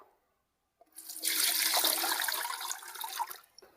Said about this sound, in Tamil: சரி, தண்ணி ஊற்றிக்கலாம்.